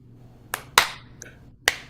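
Hands clap together during a live voice-coaching lesson: four sharp, isolated claps at uneven intervals, close and crisp against a quiet background.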